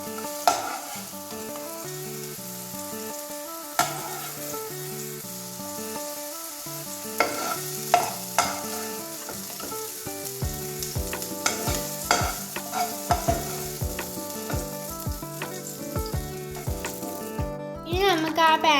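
Apple pieces fry in ghee in a pan for apple payasam, giving a steady soft sizzle with occasional stirring scrapes, while background music plays throughout.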